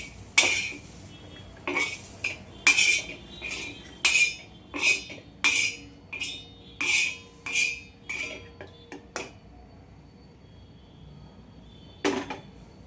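Roasted peanuts are scooped out of a pan with a metal utensil, a series of about a dozen sharp scraping clinks in an irregular rhythm, then a pause and one final scrape.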